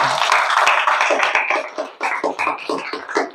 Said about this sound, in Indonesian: Beri tepuk tangan untuk yang ketiga ya.